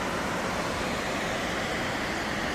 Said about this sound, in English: One of the best waterfalls I've seen on trail for certain.